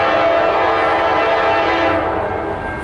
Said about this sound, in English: we got a westbound train